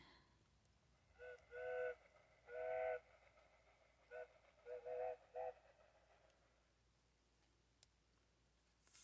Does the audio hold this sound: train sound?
yes